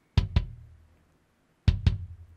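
Two pairs of kick drum hits from Addictive Drums 2 with the front mic pushed up, each double thump deep and boomy with a rounded low tail, played alone.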